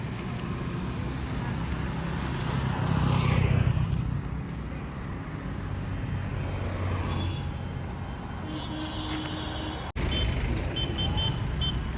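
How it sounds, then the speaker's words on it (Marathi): Cars pass on a road beside farm fields, a steady close roar of engine and tyre noise that swells and fades across the stretch while people talk over it. "गाड्या येतात"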